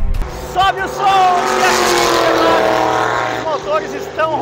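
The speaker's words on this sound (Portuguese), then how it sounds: "Os motores estão roncando alto." Stock Car race car engines roar loudly as cars sweep past on a racetrack, rising and falling pitch with overlapping passes and a sustained loud roar through the middle.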